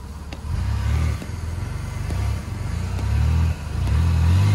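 A Chevy Impala's engine revs in strong, repeated surges with rising and falling pitch, a near, loud, continuous low roar with brief dips between pushes on the throttle.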